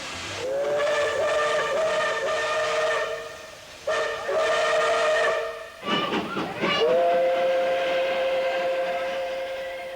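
A steam locomotive's whistle blows in long sustained blasts, broken by short gaps, with hissing steam underneath, loud and fairly close, on a line to Ecuador's Pacific coast.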